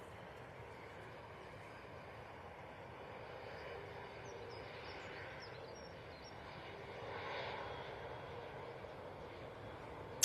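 An EasyJet airliner taxiing at an airport, its steady engine rumble and whine holding at a moderate distance throughout, swelling slightly near the end.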